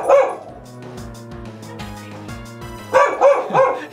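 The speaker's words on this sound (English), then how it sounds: "He's perfectly framed in the camera barking." A dog barks in bursts, loud at the start and again near the end, with softer whimpers and yips between the barks over a faint steady musical tone.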